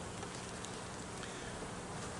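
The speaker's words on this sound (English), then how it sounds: "there's a lot of bees here" Honey bees swarm densely inside a hive opened for a March inspection, a steady close-up buzz filling the whole stretch without pause or voices.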